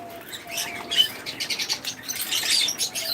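Small birds chirp and tweet in quick overlapping bursts on a Bangladeshi bird farm holding pairs fed on seed mixes, with soft wing flapping and fluttering mixed in, close and busy throughout.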